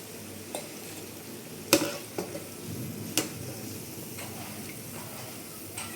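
Veg Manchurian balls frying in hot oil give a steady, soft sizzle, broken by a few sharp clinks of a utensil against the pan.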